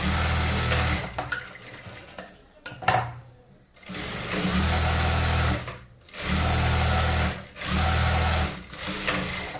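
An electric sewing machine stitches a blouse in three loud, close bursts of fast whirring, separated by short pauses with light handling clatter.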